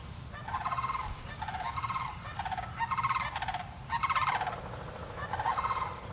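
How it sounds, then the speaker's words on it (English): Wild fowl call repeatedly in a rhythmic series of honking, gobbling notes in March, clear and fairly distinct, sounding outdoors without talk. "there's two, like, geese or something flying over there"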